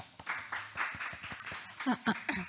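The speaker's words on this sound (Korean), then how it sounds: "박수 부탁드리겠습니다" Audience applause at a company presentation during an art-technology matching business briefing, a short burst of clapping from a seated crowd that tapers off as a voice begins near the end.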